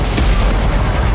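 A Battlefield 6 grenade blast, loud and close, a heavy low rumbling boom that fills the whole short moment without a clear separate onset.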